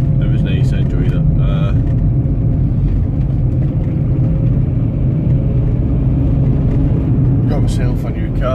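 Inside a moving Kia Sportage, a loud, constant low road rumble and engine drone fill the cabin, with brief rattles and a person talking over it.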